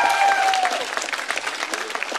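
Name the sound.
studio audience applause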